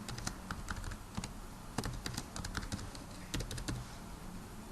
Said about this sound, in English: if you have that login information, you can just go ahead and type it in.